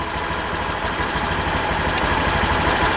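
A 2020 Honda BeAT scooter idling at about 1500 rpm, with a steady, even engine putter that runs continuously and up close throughout, no voices over it.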